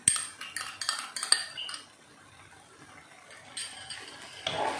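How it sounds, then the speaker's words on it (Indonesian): Minced chicken stir-fried in a pan for Malang-style noodle topping, with metal utensils clinking and scraping against the pan in quick bursts before the pan quiets and a faint sizzle takes over. "Lalu ini kita tumis atau kita sangrai sampai si daging ayamnya ini kering."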